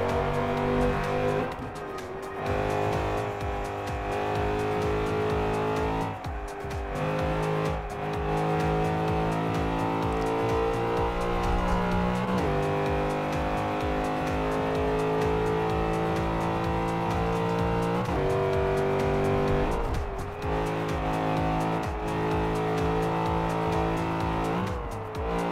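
A Nissan Skyline tuned as a B Class Fast and the Furious build races in Forza 5, its engine droning steadily at full throttle with rising and falling pitch through gear changes and a few brief dips in revs, continuous and loud without speech.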